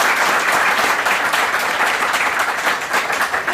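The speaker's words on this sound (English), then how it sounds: "So, a quick round of applause for the panel." Sustained applause from an event audience thanking a panel, dense and steady throughout with no voices above it.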